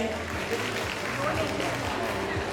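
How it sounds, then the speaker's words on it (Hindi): Audience applause at a baking and cooking taste challenge held in a community centre, a steady wash of clapping with voices faintly underneath. "इसी बात पे अपने लिए और हम तमाम लोगों के लिए जोरदार तालियां होनी चाहिए"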